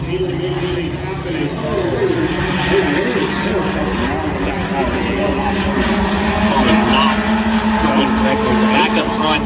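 Race cars roar around Adams County Speedway in a continuous engine drone at steady loudness, with an announcer talking over it the whole time.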